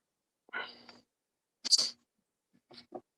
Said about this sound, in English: Now my other cat was just like laying there and then Luda just went and attacked him.